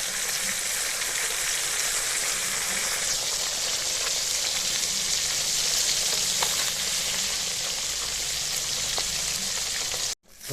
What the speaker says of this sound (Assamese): মাছখিনি ফ্ৰাই কৰা হৈ লওক